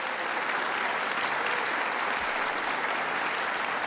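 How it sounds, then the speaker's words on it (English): Dense, steady applause from an event audience at a New York City gathering, honoring Queens borough president Helen Marshall, loud and sustained throughout with no gaps. "Let's give her a big round of applause"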